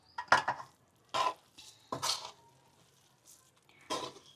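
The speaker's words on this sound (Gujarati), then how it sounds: "હવે બધું મિક્સ કરી લઈ." Motichoor ladoo mixture with ghee is stirred in a pan or bowl, heard as short, quiet scraping and clinking bursts separated by brief pauses.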